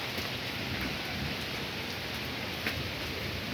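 Heavy rain pours down steadily as a dense, constant hiss that fills the whole stretch, with no voices over it.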